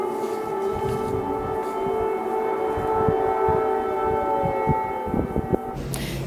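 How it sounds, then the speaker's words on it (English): Air raid sirens wailing across Kyiv during a massive Russian missile and drone attack, sustained rising and falling tones ringing loud through the city, with low rumbling and a few knocks beneath. "Air raid sirens wailed across the Ukrainian capital of Kyiv"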